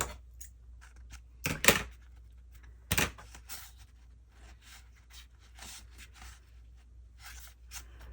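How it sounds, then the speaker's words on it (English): Scissors snip through collage paper for a handmade journal page, giving a few sharp close cuts among quiet rustling and handling of paper on a work surface. "Maybe I'll just use my scissors."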